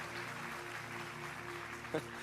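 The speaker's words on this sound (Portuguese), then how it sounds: "Você pode aplaudir o Espírito Santo?" A church congregation bursts into sustained applause during a service, a dense, even wash of clapping that holds steady at moderate loudness throughout.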